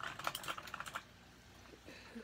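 Keystrokes on a new 104-key gaming keyboard, a quick burst of close, crisp clicks in the first second, then near quiet with a faint sound or two.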